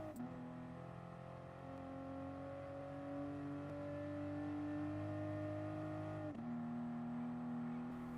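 A Toyota GR Supra race car in Gran Turismo Sport accelerates on the Nurburgring, its engine holding a steady droning whine that climbs gradually in pitch, then dips briefly at a gear change and climbs again.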